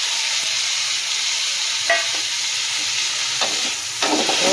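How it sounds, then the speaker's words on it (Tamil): Onions and tomatoes fry in a pan with a constant loud sizzle, broken by several scraping stirs of a spoon against the pan. "கொஞ்சம் நல்லா கலந்து விடலாம்,"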